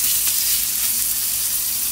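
Chicken frying in a pan makes a dense, loud, steady sizzle with no talking, close and continuous throughout.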